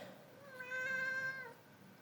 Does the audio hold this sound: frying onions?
no